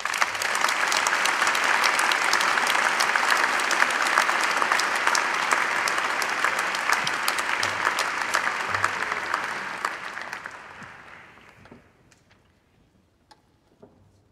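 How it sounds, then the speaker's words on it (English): Sustained applause from the audience for engineering graduates at a university graduation ceremony, loud and steady for about ten seconds before thinning and fading out. "Please join me in a round of applause for the graduates."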